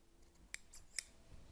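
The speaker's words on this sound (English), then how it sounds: "if there's any fuzzy spots like this, I'll trim that off first." Scissors snip twice, close and crisp, trimming fuzzy spots off a cloth medieval-style apron, with a quiet pause between the cuts and no talking.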